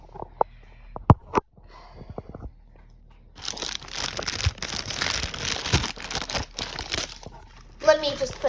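Crinkly plastic of a Lucky Charms cereal bag being cut open with scissors and handled, loud rustling and crumpling up close after a few scattered clicks, with brief voices in between.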